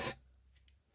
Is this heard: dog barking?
no